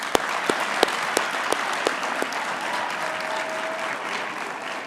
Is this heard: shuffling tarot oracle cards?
no